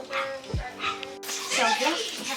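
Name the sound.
puppy whimpering and yipping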